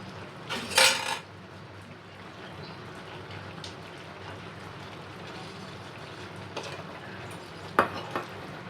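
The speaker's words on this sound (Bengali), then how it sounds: "পুরো রাইসটা ঢেলে দিলাম।" Whole rice poured into a chicken biryani pot in a home kitchen, a brief rushing clatter of grains near the start followed by a quiet bed of soft kitchen noise and a couple of later clinks against the pot.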